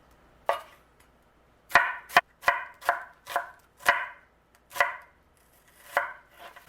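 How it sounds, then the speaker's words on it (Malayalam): A knife thinly slicing onions for a Kerala pepper beef fry, striking a cutting board in about ten crisp, close chops at an irregular pace with short pauses between them. "ഈ 4 ഉള്ളി നമുക്ക് നല്ല തിൻ സ്ലൈസസ് ആയിട്ട് സ്ലൈസ് ചെയ്യാം"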